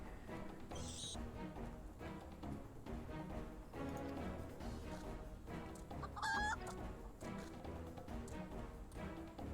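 Chickens cluck and squawk repeatedly at moderate distance, with a few sharp higher calls standing out over a continuous busy background.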